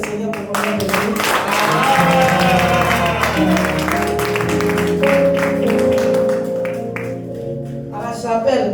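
An audience in a chapel applauds warmly during a Mother's Day honoring service, steady clapping blended with sustained musical tones and voices that continue throughout.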